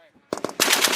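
An M2A1 heavy machine gun opens fire on a Marine live-fire range, a few sharp, spaced shots breaking into a loud, continuous close-range burst of rapid fire.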